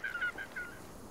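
A diver calls out on the open peat moorland of the Flow Country, a brief wavering, honking cry repeated a few times in quick succession.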